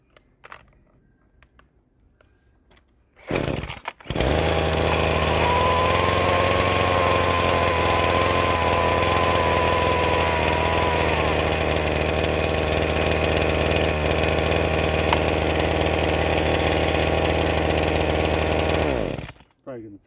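A Ryobi chainsaw engine starts and then runs continuously at a steady buzzing idle while an adjustment screw is turned, loud and close, its pitch wavering slightly before it cuts off.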